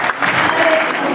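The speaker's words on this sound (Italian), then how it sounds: "Un applauso per tutti e quattro." A short burst of clapping comes from the crowd at the L'Aquila Tango Festival in Italy. The applause is dense and steady, with a faint voice underneath.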